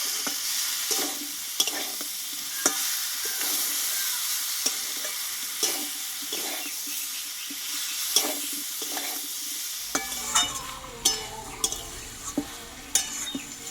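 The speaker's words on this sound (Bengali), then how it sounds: "এবার সব সবজিটা একসঙ্গে ভালোভাবে কষিয়ে নেবো" Pointed gourd, potato and carrot are sautéed with spices in a pan, with a spatula scraping in steady strokes over a constant sizzle. The frying grows louder and busier near the end, close by and with no talk.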